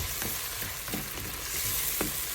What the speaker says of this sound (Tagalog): Ay, gisa lang natin.